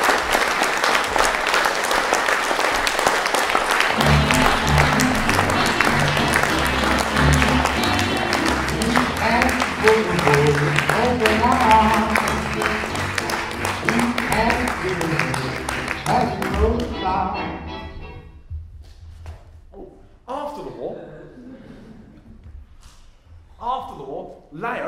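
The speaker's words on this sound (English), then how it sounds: "a big round of applause for the #1 Nazi bomb stopper himself, Leo Bumptious Szilard" Loud applause and music fill the first part, with a dense crowd sound under a bright musical bed, then it cuts off abruptly and a voice begins speaking over a quieter background.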